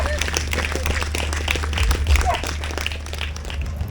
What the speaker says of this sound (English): Massive clap for those.